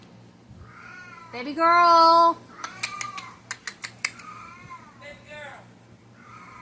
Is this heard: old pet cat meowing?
yes